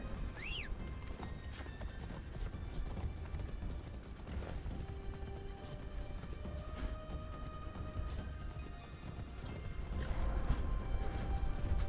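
Hooves clip-clop steadily at a walking pace in Assassin's Creed Shadows, with soft ambient noise and occasional chimes, no talking.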